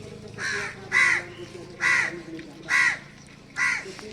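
Crows caw loudly near pilgrims on the Narmada Parikrama as they eat breakfast on a cold morning. Five harsh, evenly spaced caws stand out over a low, quiet background.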